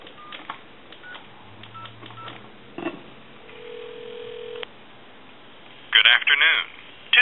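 Telephone line tones from a Thomas wood wall telephone: short dialing beeps, then a steady dial tone, followed by a recorded time-and-temperature message starting to speak over the line.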